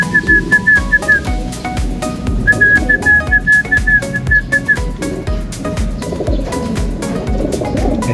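A person whistles short repeated notes in bursts to racing pigeons in a loft, over a rhythmic musical background with pigeon cooing, the whistles close and clear.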